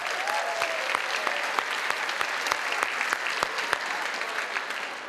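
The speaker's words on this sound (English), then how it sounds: "Let's give them a round of applause." An audience at a Finneytown high school and middle school band festival claps continuously, a dense, even wash of clapping from a sizable crowd that eases off slightly at the end.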